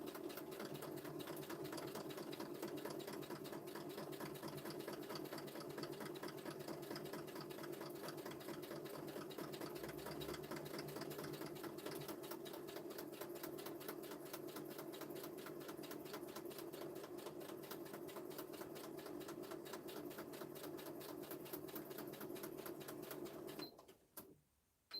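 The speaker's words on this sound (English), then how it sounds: "so now I can just stitch around the edge" A sewing machine runs steadily for about 24 seconds, stitching around the edge of fabric to form a small pocket for a desktop flip book, a continuous fast mechanical whir that stops abruptly near the end.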